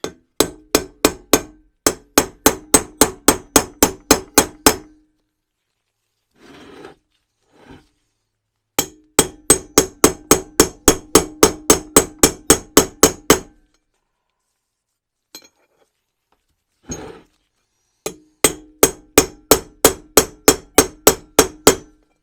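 A hammer driving a rear hub bearing into place on a Jaguar IRS independent rear suspension, with rapid, evenly spaced metallic blows in several long runs separated by pauses, loud and close.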